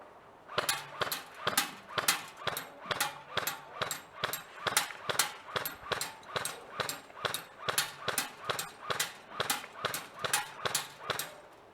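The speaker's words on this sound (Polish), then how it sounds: "Pierwszym testem będzie sobie strzelanie z trybu pojedynczego do tamtego kulołapa." An airsoft rifle fires single shots at a bullet trap outdoors, about two dozen sharp cracks coming in an even, steady rhythm with quiet gaps between them, close and loud.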